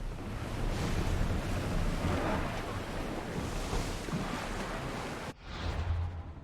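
Sailing ship gliding over open sea in Assassin's Creed Odyssey, with steady rushing waves and wind noise filling the whole scene, loud and continuous, a brief dip near the end before the water and wind surge back.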